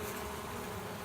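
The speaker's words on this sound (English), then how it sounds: "With it being this close, I've got a good number of bees." A honeybee swarm clustered under a backyard trampoline mat, heard as a steady, dense buzzing hum, close and continuous with no voices.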